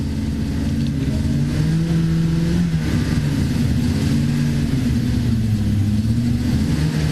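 Touring car engines rumble and rev together on a starting grid in Puebla, Mexico, a loud continuous drone with shifting engine pitches and no voices.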